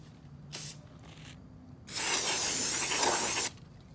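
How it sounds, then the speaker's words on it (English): Brake cleaner sprays onto a drilled and slotted brake rotor, a short hissing burst followed by a longer loud continuous spray lasting about a second and a half, close to the microphone. "I'm gonna spray it with brake clean to get rid of the oil film."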